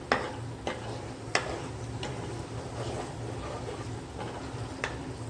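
Cashews frying in oil for a mixed vegetable sabzi, a steady low sizzle with occasional sharp clicks of a spoon stirring against the pan, fairly close and quiet, no voices.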